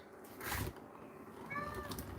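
Domestic cat meowing indoors, one drawn-out meow up close followed by a second, softer rising meow.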